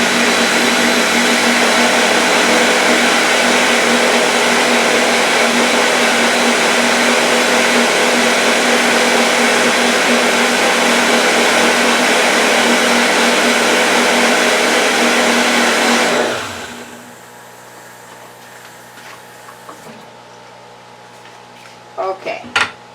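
An electric mixer whirs loudly and steadily through brownie batter for about sixteen seconds, then winds down and stops, leaving a quiet hum and a few light clinks at the end.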